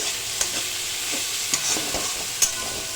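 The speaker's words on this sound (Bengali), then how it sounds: "পেঁয়াজটা দিয়ে এবার এটা ভাজা ভাজা করব" Chopped onions fry in a wok for mutton kosha, a steady close sizzle with a few sharp stirring scrapes spaced through it, no voices.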